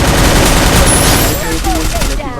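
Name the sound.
gunfire in a video game tournament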